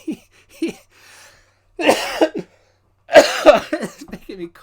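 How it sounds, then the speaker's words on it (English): Two bursts of harsh coughing ring out close by, set among soft, brief vocal sounds and short pauses. "It's making me cough."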